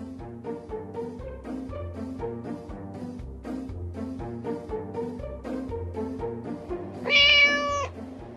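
At a cat rescue shelter, a single loud, drawn-out meow rises near the end over a steady, rhythmic tonal background.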